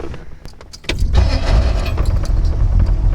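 A hopped-up flathead V8 in a 1938 Ford Deluxe Cabriolet resto-rod with a C4 automatic: a short click and clatter give way to a sudden loud catch near one second, then a steady, rumbling idle that runs close and continuous to the end.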